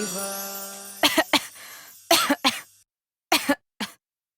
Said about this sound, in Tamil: அப்பாவுக்கு இப்படி விடாம இருமல் வந்து கொண்டே இருக்கிறதே